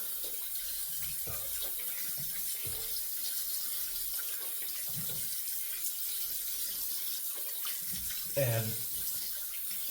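Tap water running steadily into a sink while a face is rinsed after a shave, a constant close hiss with occasional splashes, someone talking briefly over it.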